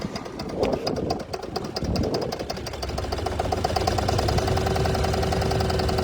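A Dexheimer 222 tractor engine catches after starting, settling from a ragged rumble into a steady, close, rapid knocking idle that holds to the end.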